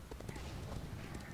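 Horse hooves clip-clop in a quick steady rhythm while riding in the Elder Scrolls Online video game, close and fairly faint beneath a speaking voice.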